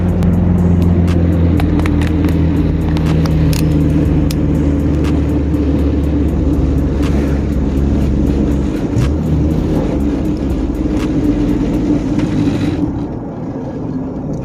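A loud, steady engine roar of a heavy truck pulling hard, droning continuously close by with rattling and clanking over the rumble.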